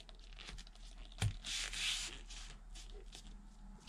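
A sewing machine foot pedal held to a hard floor by suction cups is tugged, giving soft rubbing and scraping sounds with a brief thump, close and quiet, with no talking.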